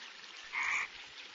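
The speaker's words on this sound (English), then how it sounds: "These sounds are made by male frogs to attract females as it's their breeding season." Male frogs croaking during the monsoon breeding season, one short, loud croak standing out of a hissy background.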